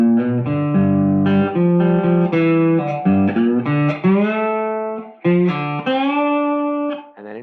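Slide guitar comes out of a G vamp and moves toward a C, gliding between sustained, harmonically rich notes in a loud, continuous solo phrase with no accompaniment or talk.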